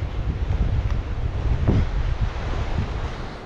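Strong gusting wind above 25 mph buffets the microphone outdoors, a steady loud broadband roar with low rumbling surges and no voices.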